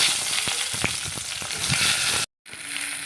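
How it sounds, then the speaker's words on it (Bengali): Eggplant pieces sizzle and crackle hard in hot oil in a home kitchen, in the same oil used for frying eggs. The loud, steady hiss is dotted with sharp pops and breaks off briefly near the end before resuming. "এবার এই তেলে আমি বেগুনগুলো ছেড়ে দেবো।"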